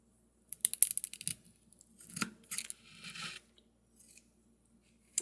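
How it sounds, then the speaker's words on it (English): Scissors snip repeatedly through a crisp cauliflower pizza crust, a quick burst of cuts followed by slower crunching slices and a final snip. "Let me get the scissors situated, and I'll cut a slice"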